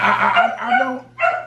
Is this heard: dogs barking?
yes